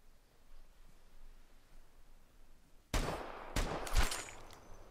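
Gunfire in the tactical shooter Vigor, three loud sharp shots in quick succession that break a quiet, faint background.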